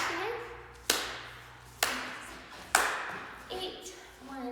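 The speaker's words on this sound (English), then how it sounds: "and then you clap back again" Hand claps in a Shim Sham tap dance routine: three sharp single claps at an even beat, each ringing briefly, with a voice counting along underneath and a softer patter at the end.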